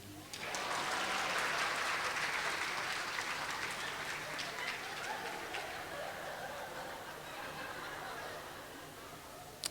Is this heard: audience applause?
yes